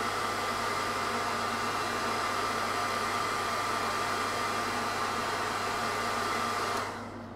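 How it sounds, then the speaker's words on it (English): A hairdryer blows steadily and loudly close by to dry paint on a miniature, holding a constant rushing roar for several seconds before being switched off and winding down at the end. "My trusty hairdryer."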